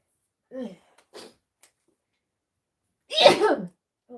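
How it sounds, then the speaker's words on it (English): A single sharp sneeze bursts out near the mic after a few soft vocal sounds and breaths in an otherwise quiet room. "I had to sneeze there."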